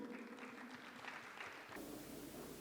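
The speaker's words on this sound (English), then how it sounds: "Can you clap for him?" Steady applause from an audience fills the room, a dense patter of clapping that continues evenly, with no voices breaking through.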